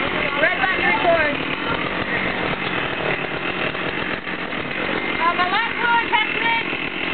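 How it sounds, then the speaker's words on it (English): A chainsaw roars steadily and loudly as it cuts into a block of cheese, the engine pitch wavering throughout while a voice speaks briefly over it. "testament is to cut open a block of cheese with a chainsaw."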